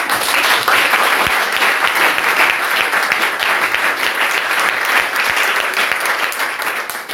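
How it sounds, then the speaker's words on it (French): Steady applause from a church congregation fills the space, dense and loud throughout with no voice over it. "Applaudissez pour eux."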